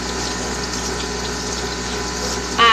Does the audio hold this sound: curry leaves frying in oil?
no